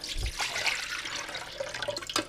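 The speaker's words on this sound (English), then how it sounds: "It's 1 1/4 cups of cold water. We're going to put into the pan, the mixing pan, which is this thing here. So I'll pour that in." Cold water pours from a measuring cup into the mixing pan of a bread machine, a soft continuous splash and trickle close by with a small clink near the end.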